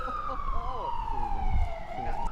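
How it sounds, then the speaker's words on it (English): An emergency vehicle siren in San Francisco, heard from a disc golf course, wails steadily and gradually falls in pitch, while someone talks over it throughout. "More sirens. Never stops here in San Francisco."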